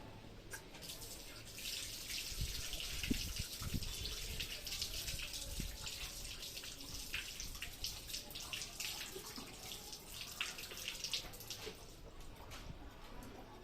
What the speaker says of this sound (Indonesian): Kemudian, bilas pada air yang mengalir.